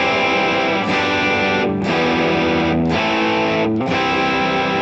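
Heavily distorted electric guitar, with stacked distortion and overdrive, strumming sustained open chords in an 80s rock rhythm style, loud and thick, with three brief breaks between chord changes.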